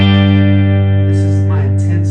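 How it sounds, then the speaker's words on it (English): Guitar through a Universal Audio Dream 65 reverb pedal emulating a Fender Twin with tremolo engaged, a loud sustained chord pulsing with choppy amplitude modulation, speech briefly over it near the end. "It's that choppy vibrato."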